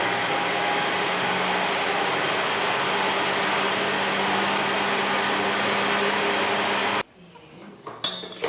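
An electric mixer creaming cookie dough runs as a loud, even motor whir for several seconds, then cuts off abruptly, leaving quieter room sounds and a voice talking.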